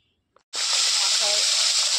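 A fish head for an Assamese khar dish hits hot oil after a brief quiet, bursting into a loud, steady sizzle that hisses on close by, with a faint voice briefly underneath.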